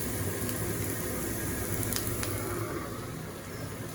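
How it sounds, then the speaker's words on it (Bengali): Red lentils frying lightly in a pan over a village cooking fire, giving a steady, soft sizzle with faint scraping, close and even throughout. "মসুরের ডাল আমি একটু হালকা করে ভেজে নিছি।"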